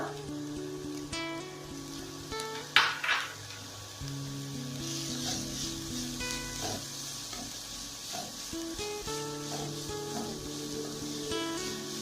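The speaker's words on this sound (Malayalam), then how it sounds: "വെളുത്തുള്ളിയും ചുവന്നുള്ളിയും നേരിയ ഒരു ബ്രൗൺ കളർ ആവുന്നത് വരെ നന്നായി വഴറ്റുക." Garlic and shallots sautéing in a pan with salt, a gentle steady sizzle broken by occasional spatula scrapes, with faint tonal background sounds underneath.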